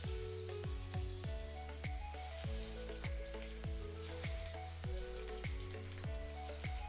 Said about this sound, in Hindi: मैं इन्हें सैलो फ्राई करूँगी।